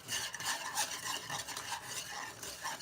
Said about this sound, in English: I still want to go in and just continue to stir